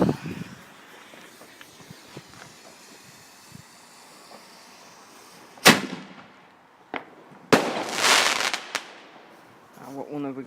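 Bonfire Night fireworks go off outdoors with sharp, loud bangs, one single blast followed by a cluster of crackling explosions and a few more pops, after a quiet stretch of faint ambient noise and a voice at the end.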